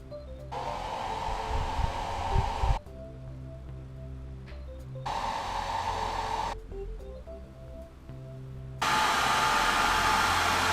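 A hair dryer is switched on and off in several bursts, drying a DIY Witch King mask; each steady airy roar alternates with quieter gaps holding a faint hum and a few handling knocks.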